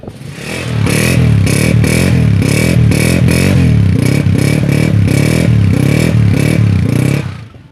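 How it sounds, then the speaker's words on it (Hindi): A United 125 Chinese motorcycle engine runs steadily and loudly close by, its pulsing exhaust beat holding an even rhythm for about seven seconds before cutting off. "चाइना के बाइक 125 का साउंड सुने"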